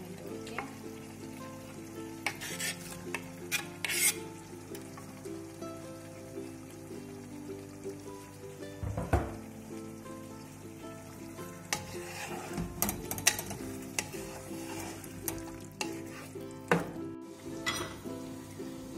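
Chicken sauce with tomatoes sizzles in a pan while being stirred, with steady frying hiss punctuated by scraping spoon strokes and occasional clinks of metal on the pan.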